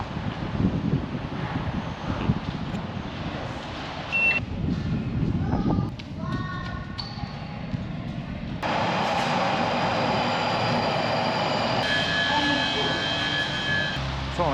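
A London Underground Northern Line train heading to Morden produces a continuous rumbling roar with shifting whine and rattle, swelling louder partway through as it runs on.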